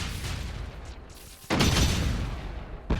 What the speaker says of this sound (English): Pretty big explosion.